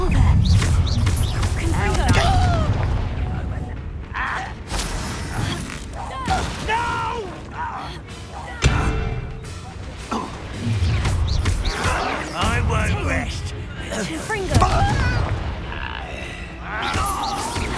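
Confringo fire spell blasts in the video game Hogwarts Legacy, dense crashing and shattering impacts with a sharp hit near the middle, layered over game effects and a speaking voice.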